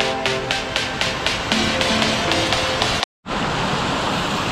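Varasgaon waterfall near Panshet Dam outside Pune, a loud, steady roar of rushing water close by, with faint rhythmic pulses early on and a brief cut to silence near the middle.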